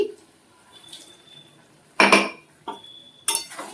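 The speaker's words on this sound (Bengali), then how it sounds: "মিক্সার জারটা এটাও একটু ধুয়ে দিয়ে দিচ্ছি" Washing a mixer grinder jar: three sharp clinks and knocks of the jar against a sink or utensils, with light water and handling noise between them and no talk.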